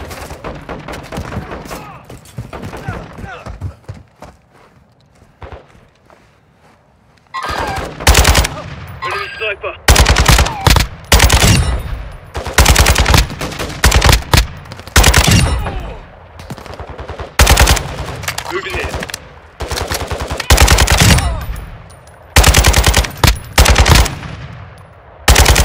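Bursts of automatic gunfire in a Call of Duty Warzone DMZ match, loud rapid volleys and single shots coming in clusters after a quieter stretch, with brief in-game voice callouts mixed in.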